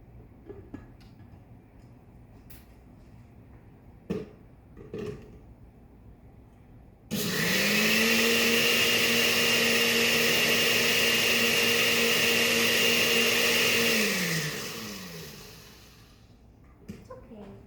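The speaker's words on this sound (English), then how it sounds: "Blend that up with the leftover rice." Countertop blender whirring loudly through a batch of water, ice and leftover rice, kicking on abruptly, running steadily for about seven seconds, then winding down, with quiet handling noises before and after.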